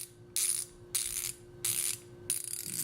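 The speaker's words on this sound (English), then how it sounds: "It's a 90 tooth ratchet." A Cobalt 90-tooth ratchet clicks in four quick bursts of fine, rapid ratcheting, each separated by a brief pause, close up and alone.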